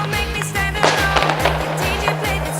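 A rapid series of firecracker pops goes off at close range in an even, rhythmic string, crackling sharply.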